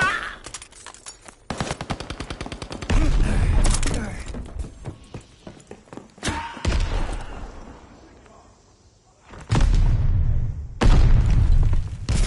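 Explosions and automatic gunfire from a Call of Duty Vanguard Hardpoint match: rapid rattling bursts, then several loud booms, one of them a sticky bomb detonating, cutting in and out over a steady battle din.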